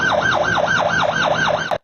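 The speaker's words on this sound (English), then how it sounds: "Lots of sirens" Emergency sirens wailing in a city in Tabriz, Iran, a loud rising-and-falling electronic whoop repeating about every quarter second, close and steady before cutting off abruptly.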